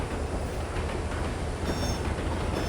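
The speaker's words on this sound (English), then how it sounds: "the people of this city do not appreciate the lovely train sounds of these assets" A train rolls steadily in the Trainz (TRS19) simulator on a tramway route, a dense continuous rumble and rail noise with faint wheel squeal, no talking.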